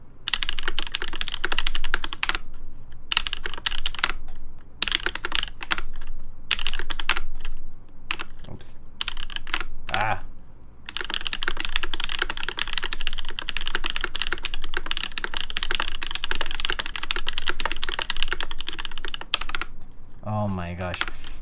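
Fast typing test on a Linworks Dolphin keyboard fitted with Kailh Cream Dream switches, dense rapid keystrokes in long bursts with brief pauses, a few short exclamations from a man between runs.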